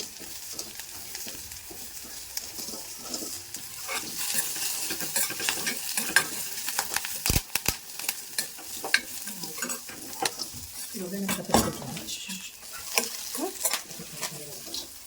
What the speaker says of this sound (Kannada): ಕರಿಬೇವು ಹಾಕ್ತಾ ಇದ್ದೀನಿ.